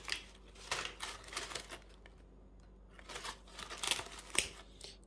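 A package is opened up close, with bursts of crinkling, tearing and snipping plastic and paper over a few seconds, separated by brief quiet gaps and ending in a couple of sharper clicks.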